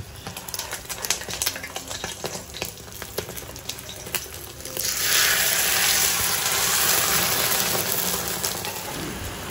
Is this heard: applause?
no